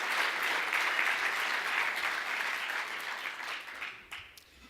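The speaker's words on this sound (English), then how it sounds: "he deserves a huge round of applause today" A crowd applauds at a transit agency's annual state-of-the-system breakfast, a dense, even roar of clapping from a large room that holds steady, then thins and tapers off near the end.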